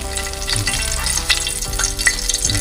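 Fish sizzles and crackles steadily in hot oil, with occasional stirring scrapes and a constant low hum.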